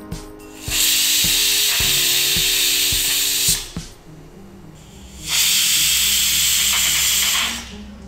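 A pressure cooker vents steam during home cooking of potato pulimunchi, giving two long, loud broadband hissing bursts separated by a quieter gap, with faint clattering knocks underneath the first burst.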